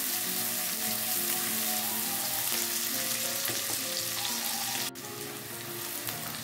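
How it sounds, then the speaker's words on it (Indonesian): Shallots, garlic, bird's eye chili and galangal sautéing in a little hot cooking oil, a dense continuous sizzle with light stirring, dropping slightly in loudness near the end, no speech. "kita panaskan sedikit minyak goreng dan kita tumis bawang merah, bawang putih, dan cabai rawitnya serta lengkuas ya"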